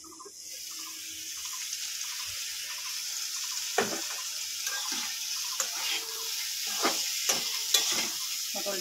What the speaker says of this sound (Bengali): পটলটা ভাজা হয়ে গেছে, এবার এটাকে নামিয়ে নেব।